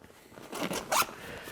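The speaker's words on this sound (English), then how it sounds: "So the main compartment of the bag is accessed through this giant U-shaped zipper" A giant U-shaped zipper on a Stone Glacier backpack's main compartment is pulled open in two quick rasping strokes, close and clear, the second one sharper and louder.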